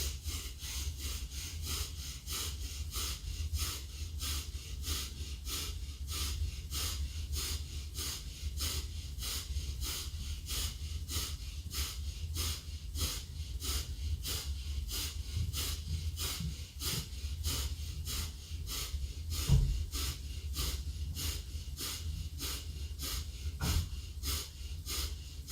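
Rhythmic breathing during a vinyasa yoga session, with steady repeated breath strokes coming at a quick, even pace throughout, close and with no talk.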